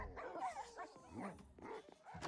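Several dogs in a Minecraft video game world barking and yipping, a busy overlapping chorus of short barks and whimpers at moderate distance, quiet overall.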